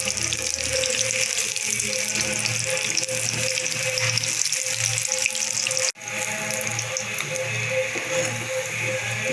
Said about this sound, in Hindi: अब कम कर देंगे हम ताकि अच्छे से फ्राई हो जाए ये